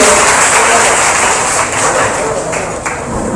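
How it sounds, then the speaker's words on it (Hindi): Applause from an audience at a mushaira poetry gathering, a dense steady wash of clapping that fills the whole stretch without pause and fades slightly near the end. "मोहम्मद अहद, जोरदार तालियों से इनकी हौसला अफजाई करें।"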